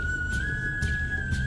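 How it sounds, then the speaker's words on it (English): Whistled music from a television show, a steady sustained whistle tone that holds for a second and a half at moderate loudness over soft background sound. "The whistling music."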